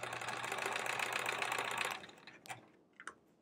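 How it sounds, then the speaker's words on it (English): Sewing machine stitching two quilt fabric scraps together during improv piecing: a steady, close, dense mechanical whir for about two seconds, then it stops, leaving a couple of faint clicks and handling sounds. "we're gonna sew these two edges together"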